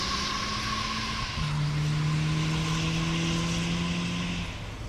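A Harley-Davidson motorcycle engine revs hard while standing in place, a loud, steady close drone that steps up slightly in pitch partway through and holds there, with no voices.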